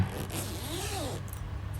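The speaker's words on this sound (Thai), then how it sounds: "เราจะมีซิปด้านข้างที่จะ อ่า เปิด" A side zipper slides open on a Blue Planet Champion 901 28-inch suitcase, one smooth close rasping pull lasting about a second.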